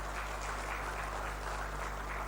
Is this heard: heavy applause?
yes